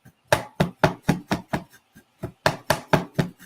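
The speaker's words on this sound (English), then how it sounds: "So this is turmeric, and this little knife, you can take a smaller knife. It doesn't have to be that big. And I'm just chopping it." A small knife chops fresh turmeric root on a cutting board in quick, close, crisp taps, two bursts of about seven strokes separated by a short pause, with no talking.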